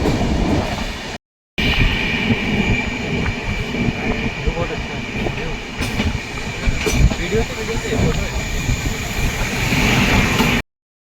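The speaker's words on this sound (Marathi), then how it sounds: "आता आम्ही ट्रेनमध्ये बसलेले आहेत." Train running on a rail journey toward Lonavala in India, heard from inside the carriage: a steady, loud rumble with rattling wheel clatter and occasional squeals, continuous throughout apart from a brief cut.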